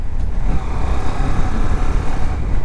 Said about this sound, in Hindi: मिड रेंज थोड़ा सा यहाँ पे भगा के देखते हैं अपन लोग कि कैसा क्या है मिड रेंज